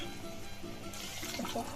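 Water poured from a glass into chicken curry cooking in a pan, a soft splashing gush under a low background murmur, brief and fairly faint.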